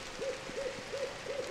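A bird hoots in the survival game Citadel: Forged With Fire. Four evenly spaced, soft, hollow hoots sound alone over a quiet hiss.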